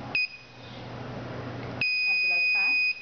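A touchscreen password authentication system sounds its buzzer alert after a wrong password, giving a brief high beep, then a longer steady electronic tone of about a second, with a person talking faintly between.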